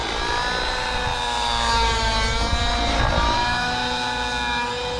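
An Align Trex 600 RC helicopter fitted with a blue rotor head flies on a tuning flight, its steady whining rotor and motor drone loud and continuous with no voices.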